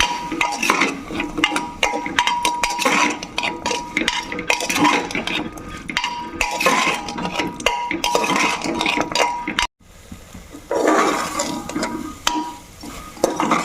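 Turmeric and Kashmiri chilli powder frying in a pan, a loud, busy run of metal spatula scraping and clinking against the pan over a low sizzle, briefly quieter near the end.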